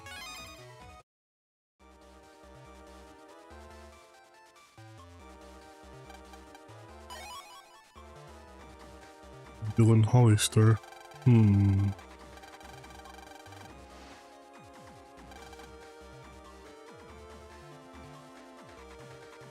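Phone ringtone chiming in repeated melodic bursts over quiet background music, with two louder, denser ringing passages near the middle; a voice briefly says a name.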